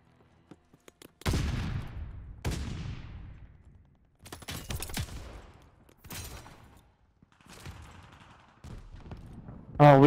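Shotgun blasts in the multiplayer shooter Call of Duty Vanguard: about six heavy, booming shots spaced a second or two apart, each with a decaying tail, ending in a sharp electronic burst.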